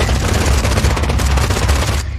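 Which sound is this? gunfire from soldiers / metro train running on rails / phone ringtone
gunfire from soldiers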